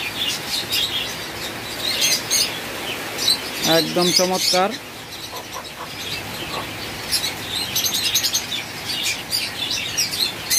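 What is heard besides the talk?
Brahma and Silkie chickens and roosters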